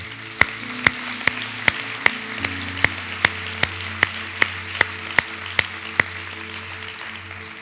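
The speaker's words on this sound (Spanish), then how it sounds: "Dele un aplauso al Señor." Rhythmic clapping from a church congregation, about fourteen evenly spaced sharp claps over a steady low sustained tone, like a held musical chord, with no talk.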